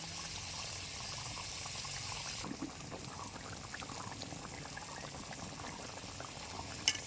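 Curry of vegetables and egg with spices, turmeric, salt and a little water simmering in a pan, a steady close bubbling and popping that continues throughout, with a brief faint clink near the end.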